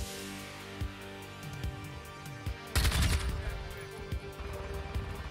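Assault rifle fire in a video game, a handful of sharp single shots scattered over a steady background hum, with one louder, denser burst near the middle.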